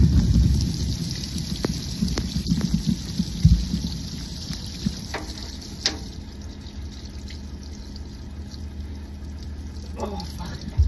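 Diesel fuel spraying and splattering out of the tank of a Volvo FM12 truck, a broad continuous hiss like heavy rain with scattered drips and splashes, close by and steady throughout.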